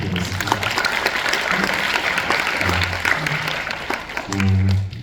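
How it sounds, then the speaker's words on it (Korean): Audience clapping at a live talk event with two writers, a steady patter of many hands at moderate level, with low musical tones playing underneath and swelling near the end. "박수 한번 부탁드리겠습니다"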